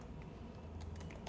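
A computer keyboard is typed on in a short run of soft, quiet key clicks at an uneven pace, with no talk.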